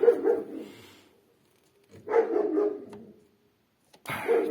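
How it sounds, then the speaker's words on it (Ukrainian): Dog barking in three separate bursts, each a cluster of sharp barks with short pauses between, fairly close and alone, near a homemade log splitter shaft setup. "Той ще зараз гавкає"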